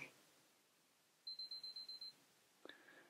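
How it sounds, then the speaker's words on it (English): A Canon AE-1 Program camera's battery test gives a run of seven quick, evenly spaced high beeps, faint against a quiet room, followed by a small click. "Beeps that indicate the battery's okay."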